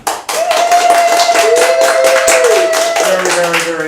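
An audience in a theater claps to vote for a show at an improv Broadway performance, a dense burst of applause lasting several seconds while a sustained sung or whistled tone carries over it.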